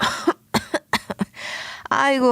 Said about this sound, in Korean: 무슨 기침이 이렇게 나는 건지 원.